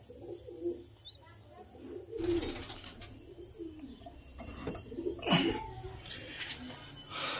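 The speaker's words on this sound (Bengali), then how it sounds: "আর আমার পায়রাগুলো এই সব দেখতে পাচ্ছ" Pigeons in a loft give low, soft coos among rustling and occasional wing flutters, fairly quiet and intermittent.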